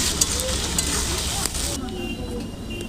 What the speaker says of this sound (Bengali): দিয়ে আলুটা ভালো করে ভেজে নেব।